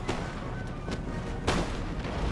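Scots line infantry in Empire Total War fire a musket volley, a dense crackle of gunfire with a few sharper booming shots rising out of steady battle noise.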